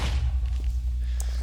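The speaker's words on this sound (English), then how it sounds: "That is a bigger explosion than I expected." A hand grenade blowing up in a homemade video game, a deep low boom and rumbling thud that fills the whole short moment, loud and close.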